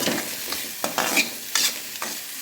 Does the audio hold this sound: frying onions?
yes